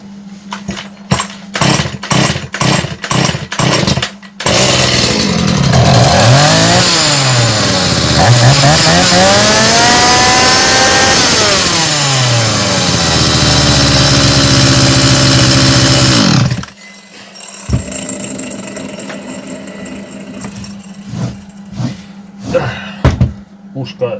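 STIHL MS180 chainsaw, recently repaired with a new rim sprocket and prone to heating up and stalling, is pulled over several times, then roars loudly close by for about twelve seconds with rising revs before cutting out, leaving light clatter.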